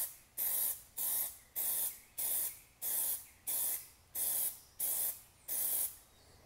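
An aerosol can sprays Plasti Dip onto a car emblem in about nine short, even bursts, each a close sharp hiss separated by brief pauses.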